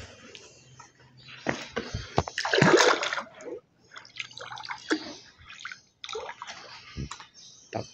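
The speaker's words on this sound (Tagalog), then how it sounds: "So kuha lang tayo ng tubig." Pool water being scooped into a sample container for chlorine and muriatic acid testing, with close splashes, drips and sloshing in irregular bursts, loudest midway through.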